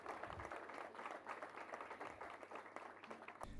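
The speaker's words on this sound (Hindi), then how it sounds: "जोरदार तालियां हो जाएं सुश्री ईशा पंत जी के लिए" Faint audience applause for a woman honored at a special program event, a steady patter of many hands clapping, distant and low in level.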